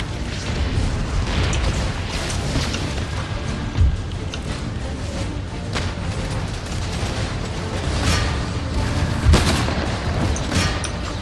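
Mortar and artillery fire in the strategy game Empire: Total War, a dense ongoing battle din of booms and gunfire with a few sharper blasts standing out, loud and continuous throughout.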